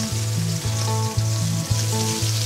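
Tomatoes stir-frying for a pork stir fry, a loud steady sizzle with rhythmic low scraping strokes of a spatula in the pan, no voices.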